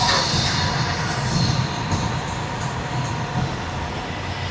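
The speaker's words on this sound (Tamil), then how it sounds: "நீங்க ட்ரெயின் போறதுலாம் இங்க இருந்தே பாத்துக்கிற மாதிரி இருக்குங்க." A train rolls past close to an apartment balcony in Pattaravakkam, Ambattur, a steady loud rumble with faint rail clatter filling the whole stretch, no voices over it.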